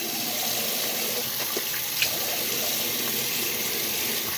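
Tap water runs steadily into a sink while a face is rinsed during a whitening, anti-spot skincare routine, a continuous close hiss with small splashes and no talking.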